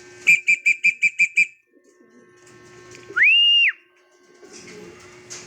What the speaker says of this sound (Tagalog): Ayan, dalawa mga kalapatids. Mabibilis ngayon pauwian.